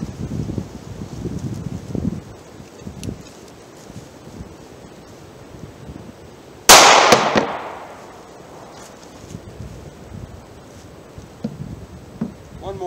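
A single sharp gunshot from a NAA mini revolver firing .22 Magnum, loud and close with a short ringing decay, amid quiet outdoor background and faint rustling.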